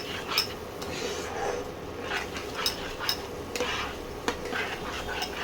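Masala spices being stirred and fried in a pan for a parshe fish and tomato dish, with a metal spoon clinking and scraping repeatedly against the pan over a soft, steady background.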